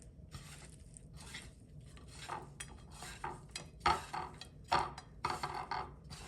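A utensil stirs shrimp with eggs and flour in a dish, giving soft scraping and rubbing strokes punctuated by occasional clinks against the bowl, close and quiet with no talking.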